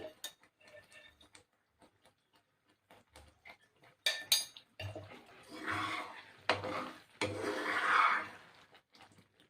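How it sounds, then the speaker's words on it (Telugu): A spoon scraping and clinking against a pan while a thickening milk mixture for palkova is stirred, in irregular bursts of soft scraping and knocks, fairly close and quiet. "ఇక్కడే పక్కనే ఉండి తిప్పుతూ ఉండాలి"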